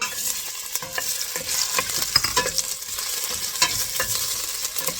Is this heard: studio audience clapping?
no